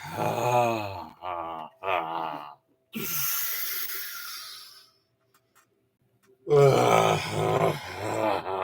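A person clears their throat during a livestream with several rough, voiced grunts and groans, close and fairly loud, separated by short silences and a breathy exhale.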